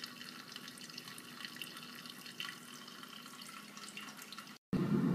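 Water pouring steadily from a Bunn coffee maker's brew funnel into the pot, a continuous close trickle and splash with no talking, ending in a brief gap and a louder thump.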